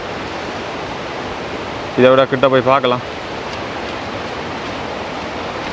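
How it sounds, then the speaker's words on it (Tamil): Constant rushing roar of a waterfall, water falling from above, fills the clip, with a person briefly speaking over it near the middle. "மேலேருந்து தண்ணி வருது"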